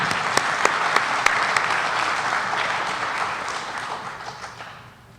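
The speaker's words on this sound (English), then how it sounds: "they deserve a nice round of applause for this audience" Audience at a host community hearing in Revere breaks into sustained applause, a dense wash of many hands with a few sharper nearby claps, fading gradually toward the end.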